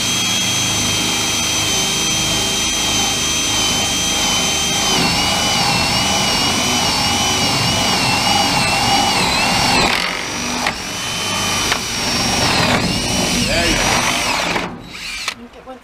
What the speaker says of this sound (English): You're going to go through that first 2x4 first. Then you're going to go through the siding.